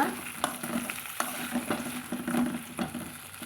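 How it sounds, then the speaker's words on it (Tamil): Brinjal (eggplant) sautéing in oil in a pan, with a soft continuous sizzle broken by several sharp scraping and stirring knocks at an uneven rhythm. "கத்திரிக்காய் போட்டு வதக்கலாங்க வதக்கி விட்டுக்கலாங்க"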